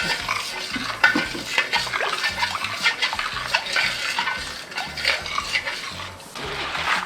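Salted cabbage for water kimchi being turned over in a dish, with wet rustling, scraping and soft clattering against the container, close and continuous, with no talking.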